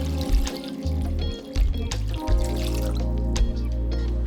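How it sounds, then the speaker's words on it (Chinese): Water pours steadily into a bowl of clams being washed for a Macau-style hotpot, a close, continuous splashing trickle with small bumps and clinks as the stream shifts. "洗干净以后，再次加水。"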